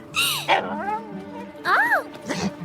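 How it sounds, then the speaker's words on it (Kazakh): A cartoon puppy yaps and whimpers in short high-pitched bursts, close and clear, with a voice speaking in between. "Ой, кішкентай күшік."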